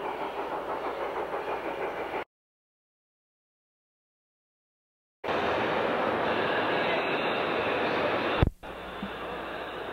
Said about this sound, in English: You can see the mogul crossing the block right now as it enters a passing sighting.